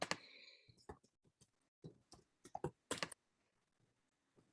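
Computer keyboard typing during an online meeting: scattered bursts of quiet keystrokes and clicks, uneven in rhythm, close to the microphone with a faint background.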